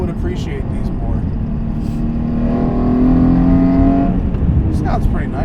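Hyundai Genesis Coupe second generation with a 3.8L engine revving. A loud, close engine drone climbs in pitch and holds, then eases back, while a voice speaks over it.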